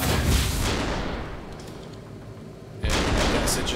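A tank firing in the video game AirMech, heavy rumbling booms of cannon fire, loud and continuous, fading slightly and then a fresh blast near the end.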